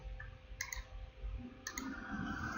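A computer mouse gives two quiet, crisp clicks about a second apart against a low background hum.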